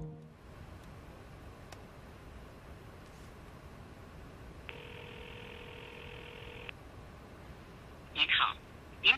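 A telephone ringback tone sounds once for about two seconds over faint hiss before an unreachable-number message, with a few brief sharp tones near the end.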